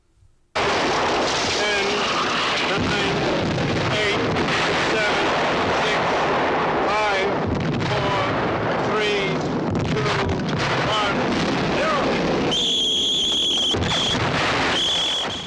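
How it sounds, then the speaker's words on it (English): Dense, continuous battle noise of explosions and gunfire from the war film Paths of Glory, loud and chaotic, with shouting voices mixed in and a high whine near the end. "we get no heroic music, just the cacophony of explosions and gunfire"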